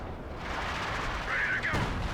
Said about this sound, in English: Enemy infantry firing on us.